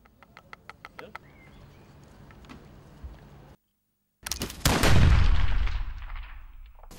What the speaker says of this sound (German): einen Schuss abzufeuern war eine kleine Prozedur